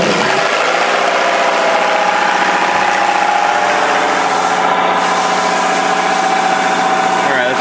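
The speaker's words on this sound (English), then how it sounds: "Alright, go ahead and fire it up a little bit, Matt." A car engine fitted with a ported fuel rail fitting runs steadily at raised revs, a close, loud, continuous droning hum with constant level throughout and no audible talk.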